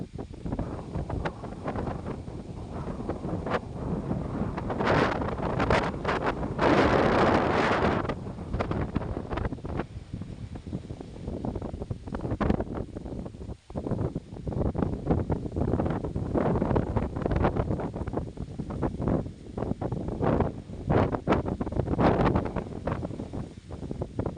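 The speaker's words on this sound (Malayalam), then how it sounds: "ഓർക്കാപ്പുറത്തുണ്ടായ ഒരു ഭയങ്കരമായ കാറ്റാണ്" A sudden, very strong wind blasts and roars close to the microphone in rising and falling gusts, loud and continuous throughout, with no voices.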